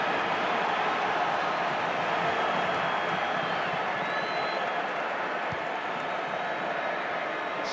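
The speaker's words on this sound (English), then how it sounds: "Great roar from the crowd as Lionel Messi goes for his first warm-up of the second half." A football stadium crowd roaring steadily as Lionel Messi warms up during a Barcelona home match against Osasuna, a broad continuous wash of distant cheering and noise with no break.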